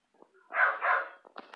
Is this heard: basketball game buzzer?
no